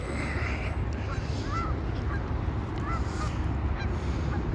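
Swans calling on brackish water, a few short honking calls rising over a steady wash of wind and water noise, faint and somewhat distant.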